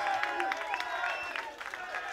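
Audience applause for a boxer at an amateur boxing club show in a hall: a short burst of clapping and crowd noise, moderately distant, mixed with a voice speaking over it.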